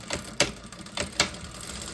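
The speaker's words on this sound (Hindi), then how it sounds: "दोबारा से एक दफ़ा सिलाई लगा के हम पक्का कर लेंगे" A sewing machine stitches fabric for a halter neck in a few short, quiet bursts of rapid mechanical clatter, close by with no voices.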